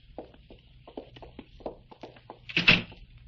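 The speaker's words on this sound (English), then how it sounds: "Open the door." Light footsteps tap across a floor in a 1953 haunted house drama, then a door gives one louder clunk as it opens, close and dry.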